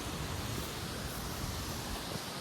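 A hidden waterfall near Nashik, with clear water, rushes in a steady, even roar of broadband water noise that fills the whole short stretch without a break.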